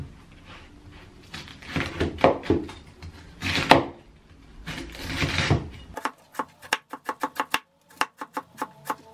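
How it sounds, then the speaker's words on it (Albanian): Tough cabbage leaves for Albanian sarma being cut into small pieces: uneven crunchy rustling cuts at first, then a quick series of sharp knife taps on a board, close and clear with no speech. "Dhe e preket në copa të vogla."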